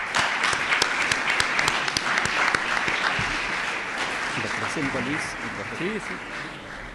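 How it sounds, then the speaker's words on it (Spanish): An audience at a public talk on artificial intelligence, fake news and political campaigns gives welcoming applause, dense clapping that gradually thins and fades, with faint voices and a brief spoken murmur near the end. "Pido un aplauso de bienvenida"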